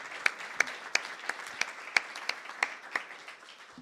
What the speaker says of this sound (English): Could I please get a round of applause for our team?